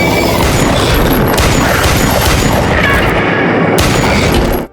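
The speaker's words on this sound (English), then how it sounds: "Gunfire erupted across the gorge." Dense gunfire crackles through a sci-fi thriller scene set across a gorge, loud and continuous bursts layered with booms and impacts, with no talk.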